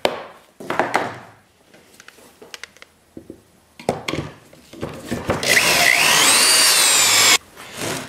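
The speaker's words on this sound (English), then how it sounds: "drill a couple pocket holes in the back of your fence." Short bursts of a power drill biting into wood while drilling pocket holes, with pauses between, then a long continuous high-pitched drilling run that stops abruptly.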